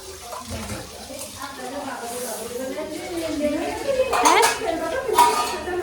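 Dishes, pots and utensils being washed at home, with steady clinks and clatter of metal and crockery and a few sharper knocks toward the end, heard under ongoing talk.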